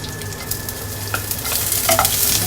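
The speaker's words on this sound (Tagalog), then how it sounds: "Lalagay ko na yung aking luya." Ginger being fried in hot oil, a close, continuous crackling sizzle with sharper spitting bursts and the occasional scrape of stirring, no voices.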